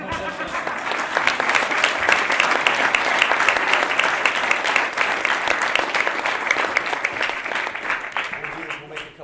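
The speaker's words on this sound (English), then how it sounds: "Let's clap." Sustained applause from a young adult church group fills the room, dense and steady for the whole stretch before tapering slightly at the end.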